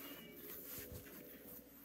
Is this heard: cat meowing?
yes